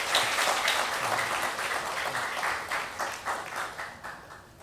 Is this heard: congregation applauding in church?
yes